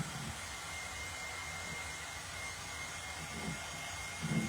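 A hair dryer blows on a decorated glass jar, a steady broadband whoosh that runs unbroken throughout, fairly close, with faint low thumps of handling and no speech.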